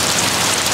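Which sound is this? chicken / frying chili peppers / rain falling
rain falling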